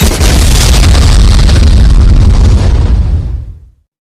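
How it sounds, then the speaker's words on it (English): A bomb explosion sound effect, one loud sustained blast with a dense roaring rumble that holds for about three seconds and then cuts off abruptly, with no voices. "another bomb"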